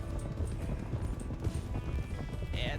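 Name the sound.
wild horse running, from video game RedM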